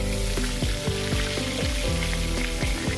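Pointed gourd pieces fry in hot oil with a little salt and turmeric, giving a steady, close sizzle broken by repeated sharp popping crackles.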